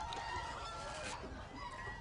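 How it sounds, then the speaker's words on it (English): Farmyard chickens cluck and crow continuously, fairly close and steady, in a rural setting where buff rock hens were once bred. "We've always kept chickens"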